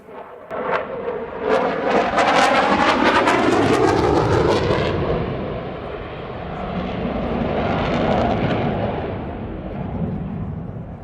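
An F-16 fighter jet takes off in an emergency, its loud engine roar building and sweeping past with rising whine and rumbling thrust, then fading into a sustained distant rumble.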